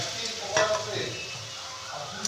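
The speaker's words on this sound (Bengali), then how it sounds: "একদম গ্যাসের ফ্লেমটাকে লোতে রেখে ভাজতে হবে, যাতে ভেতরটা আমার কাঁচা না থেকে যায়" Snacks fry in oil in a pan over a low gas flame with a close, steady sizzle. A brief stirring clink comes early on.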